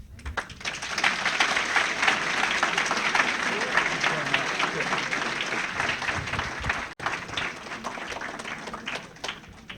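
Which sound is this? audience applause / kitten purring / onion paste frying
audience applause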